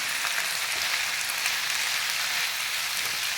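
Paneer gravy with kasuri methi sizzles steadily in a pan, a close, even hiss of frying with no pauses and no talking.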